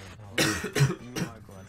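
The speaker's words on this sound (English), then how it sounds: "Sorry, my cough has been so annoying." A person coughing three times in quick succession, close and fairly soft, with a rough throaty quality.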